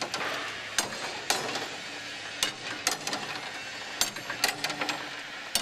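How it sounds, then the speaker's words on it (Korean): A hammer strikes a bronze casting to knock off sand and rebar in a foundry, producing sharp metallic clanks at irregular intervals, clustering faster toward the end, over steady background noise. "쇳물 주입구나 철근, 주물과 상관없는 부분을 망치로 쳐서 분리해내는 것이다"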